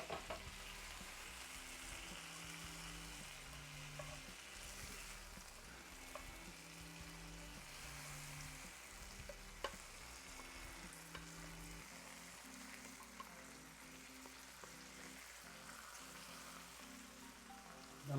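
Food sizzles and fries steadily in a pan, a soft continuous crackling hiss close by, with faint background music underneath and no talk.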